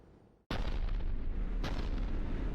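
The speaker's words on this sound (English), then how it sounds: "Looks like Cerberus got that cannon operational, Commander." Cannon artillery fire in Mass Effect 3 on Tuchanka: a sudden loud boom followed by a sustained roaring rumble, with a second blast soon after, no speech over it.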